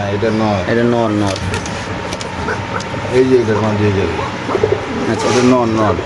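Giribaz and racer pigeons at a pigeon sale coo in repeated low, throaty phrases close by, while people talk over them and a faint mechanical hum runs underneath.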